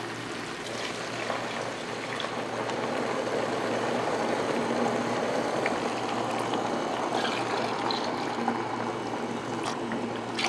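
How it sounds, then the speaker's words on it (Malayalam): Five cups of second-extract coconut milk are poured into a pan of ada pradhaman, a Kerala Onam dessert, making a steady, continuous rushing pour that lasts throughout with no talking. "രണ്ടാം പാല് ഞാൻ അഞ്ച് കപ്പാണ് എടുത്തിരിക്കുന്നത് അതിലേക്ക് ഒഴിക്കുകയാണ്"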